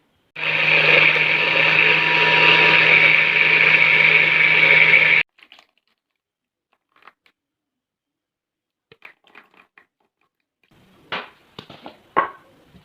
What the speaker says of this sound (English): So I'm going to go ahead and blend my pumpkins in the blender and add a little stock